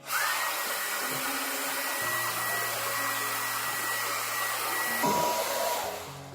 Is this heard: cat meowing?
no